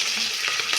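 Onions and green chilies frying in hot oil with cloves and shahi jeera, a steady close crackling sizzle that runs continuously without pause.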